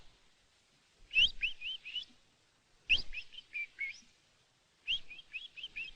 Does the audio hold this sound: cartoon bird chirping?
yes